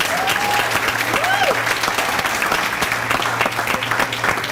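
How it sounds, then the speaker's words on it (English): A banquet crowd gives a round of applause for honored life members at a scholarship golf dinner, dense sustained clapping with a few cheering voices rising over it. "Can we give all of our life members a round of applause?"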